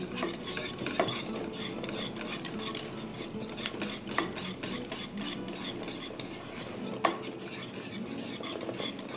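A spoon stirs banana pudding in a pot on the stove as butter melts in, giving continuous soft scraping and swishing with occasional metallic clinks against the pot's sides; quiet and close.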